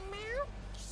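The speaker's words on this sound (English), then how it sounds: "My cat's going crazy right now." A pet cat named Finn gives one short rising meow, close by but faint, over a quiet room background.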